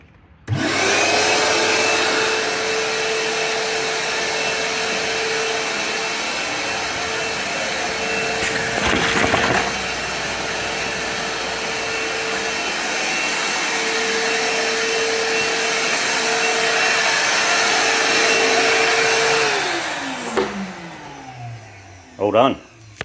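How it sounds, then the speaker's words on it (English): A vacuum cleaner attached to an internal conduit, pulling string through for a fibre internet line, roars steadily at close range for about eighteen seconds, with a brief bump partway through, then winds down as its pitch drops away. "turn on vacuum,"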